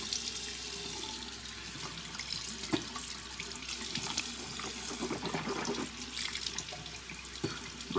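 Tap water runs into a sink as a comb is rinsed, a steady close splashing stream with irregular sharper splatters where the flow hits the comb, and no talk.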